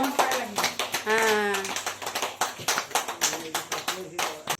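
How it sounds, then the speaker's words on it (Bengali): Several people clap along at a birthday celebration, a loose run of sharp hand claps mixed with singing and shouting voices throughout, fairly close and lively. "জোরে জোরে হাততালি দাও সবাই হাততালি দাও"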